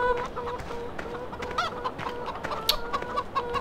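Chickens in a Farming Simulator 2013 farm pen cluck repeatedly in short, overlapping bursts, a busy flock heard close with no talking.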